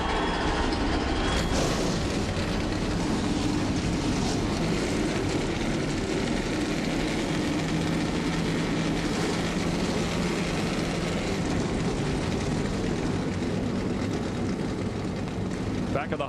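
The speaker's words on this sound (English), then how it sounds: "Gentlemen, start your engines." A field of NASCAR stock car engines fires up at the 2011 STP 400, a loud, unbroken roar that swells sharply early on and holds at full strength, with voices faintly beneath it.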